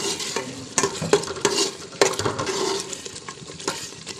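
Turnip (shaljam) cooking in ghee with spices on low heat in a pot, with a close, busy sizzle broken by repeated stirring and scraping strokes of a spoon against the pan.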